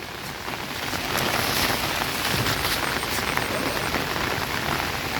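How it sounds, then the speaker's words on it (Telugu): Heavy, nonstop rain pours over a plant nursery in Kadiyam, Godavari district, as a dense, loud, even roar of drops hitting surfaces that holds steady throughout. "మా గోదావరి జిల్లాలో మాకు కూడా మొదలైందండి ఇప్పుడు వర్షం."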